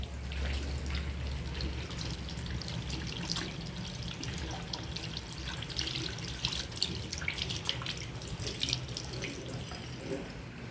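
Hands are washed under a running tap as water streams steadily into a sink, with light splashing and dripping throughout, close and moderately loud, with no one speaking.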